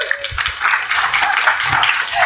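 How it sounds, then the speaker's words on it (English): Brief burst of audience applause for a live-episode podcast guest, dense clapping sustained for a couple of seconds at moderate loudness. "Round of applause for Reid"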